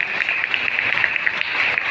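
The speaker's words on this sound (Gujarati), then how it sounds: "જોરદાર તાળીથી વધાવ્યો" Steady applause from an audience at a Kshatriya Rajput community gathering in Gujarat, greeting a student who placed first; dense, continuous clapping close by, with no talk over it.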